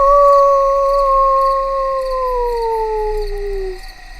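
A voice imitates a werewolf howl: one long, loud, sustained wail that slowly slides downward in pitch and fades out near the end, heard alone without other talk.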